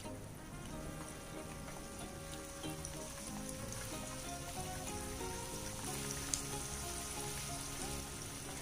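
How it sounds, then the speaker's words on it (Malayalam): Chicken pieces fry in hot oil, a steady, quiet sizzle with fine crackling and occasional pops that runs without pause. "ഇനി നമുക്ക് ബാക്കിയുള്ളതും കൂടെ ഇതുപോലെ ഫ്രൈ ചെയ്തെടുക്കാം"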